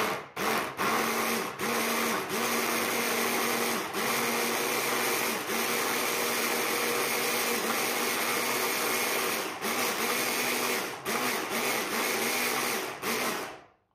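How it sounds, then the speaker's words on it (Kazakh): An electric blender purees tomatoes for pizza sauce, its motor whirring loud and steady with a pulsing, churning rhythm, a few brief interruptions, and then stopping at the end. "Бізге езіп алу үшін блендер қажет болады"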